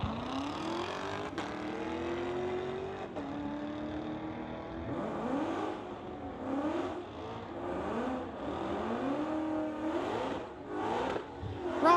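At a street-legal drag race, a 2008 BMW 335i and a 2016 Corvette rev and launch, engines climbing through repeated rising gear pulls, loud and fairly close, with no talk over them.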